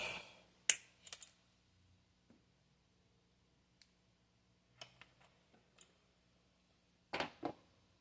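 Wire is cut off with a cutting tool in a quiet room. A few sharp close snips and ticks are separated by pauses, with two louder clicks near the end.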